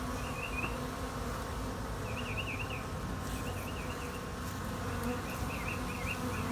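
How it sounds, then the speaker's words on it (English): Dense, steady buzzing of many honeybees clumped on the ground close up, a continuous droning hum with occasional wavering tones as individual bees pass. "Pretty weird to have some bees just clumping up down here on the ground."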